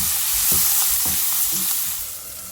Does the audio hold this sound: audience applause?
no